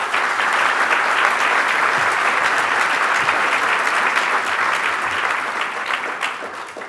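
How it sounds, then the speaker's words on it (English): A large gala audience claps steadily in sustained applause, loud and dense throughout, thinning slightly at the very end. "Please join me in a round of applause."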